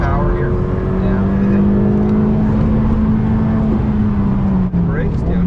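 A Ferrari F8 Tributo's engine drones on a track as it accelerates, a steady loud tone that rises and holds, heard from inside the car with someone talking over it.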